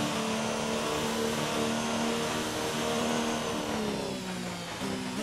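A Formula 1 race car engine in the F1 2019 racing game at the Australian Grand Prix in Melbourne, holding a loud steady high-pitched whine through the gears with harmonic tones drifting and dipping slightly near the end.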